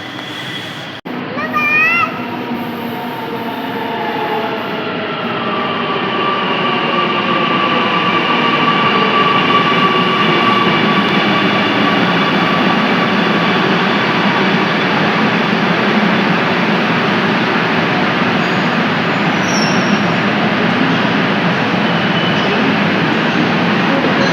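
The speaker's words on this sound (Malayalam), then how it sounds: "അപ്പോൾ നമുക്ക് പോകാനുള്ള മെട്രോ ഇതാ എത്തിയിരിക്കുകയാണ്." A metro train pulls into a station in Ernakulam with a loud rising rumble and whine that builds and holds steady, a sharp clank at the start.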